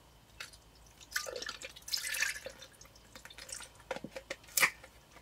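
Coconut milk pours into a cooking pot in soft glugging splashes and drips, with irregular liquid bursts and a few sharper plops, fairly close and quiet.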